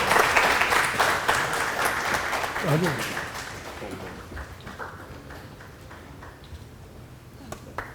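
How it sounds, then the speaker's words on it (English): Audience at a World Environment Day panel discussion claps steadily as a memento is presented, dense applause fading gradually over several seconds, with a brief voice in the middle and a few scattered claps at the end. "keep clapping as the memento is presented"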